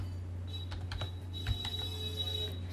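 Quiet, scattered keystrokes on a computer keyboard while CSS code is typed, a few soft clicks in uneven bursts over a low electrical hum, with no speech.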